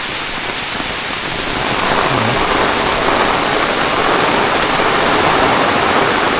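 Heavy rain pours down in a Konkan village in the evening, a dense, loud, steady hiss that swells slightly after the first couple of seconds, with a faint low rumble underneath.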